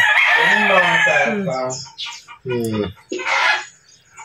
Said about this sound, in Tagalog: Naku, chicken.